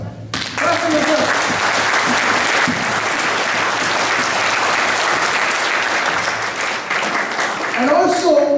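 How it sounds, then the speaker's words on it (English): Audience clapping at a seminar session, a dense, steady burst of applause from a large indoor crowd lasting several seconds, with a voice speaking briefly at the end. "Clap for yourself. Clap for yourself."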